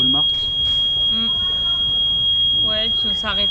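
A steady high electronic alarm tone beeps on without a break through the whole stretch, fairly loud, while people talk over it in a car near Salt Lake City airport.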